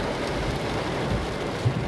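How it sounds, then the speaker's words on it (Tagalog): Steady heavy rain pours down outdoors, a dense, loud and continuous hiss with low rumbling underneath and no pauses. "Ulan-ulan."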